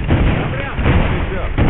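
Gunfire in the tactical shooter Squad, a run of loud, heavy reports and booming cracks in quick succession, dense and close, with radio voices mixed in.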